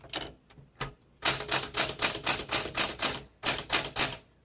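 A 1968 Super Sterling manual typewriter being typed on: a few scattered keystrokes, then a fast, steady run of sharp clacks, a brief pause, and another quick burst, close and clear with no voices.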